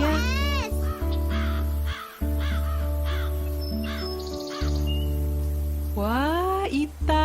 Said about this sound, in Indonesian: Ita, lihat burung itu.